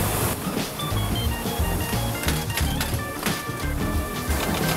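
Eyelet machine at a roller skate factory punching eyelets into both sides of a skate boot at once, giving dense mechanical clatter and repeated sharp thumps over a steady loud workshop din, with no voices.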